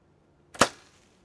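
An arrow of 430 or 530 grains loosed from a bow at a target, a single sharp crack with a quick fading tail, alone in quiet surroundings.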